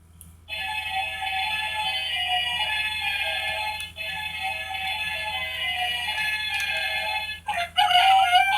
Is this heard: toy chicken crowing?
yes